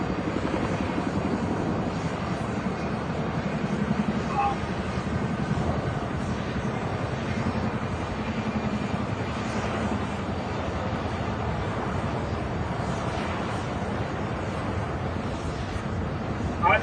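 A V-22 Osprey tiltrotor aircraft takes off, a steady, heavy rotor and engine roar that holds at a fairly even level throughout, with some wind buffeting at the microphone.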